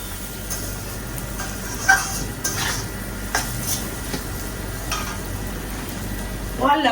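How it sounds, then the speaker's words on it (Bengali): Spices and curry masala frying in a pan give a steady sizzle, with scattered scrapes and knocks of a spoon against the metal pan, close up and without talk. "এখন এগুলো দিয়ে না এটাকে ভালো করে কষাবো"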